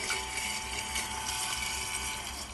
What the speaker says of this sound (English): We get the pump out of water and see dry run protection being triggered again.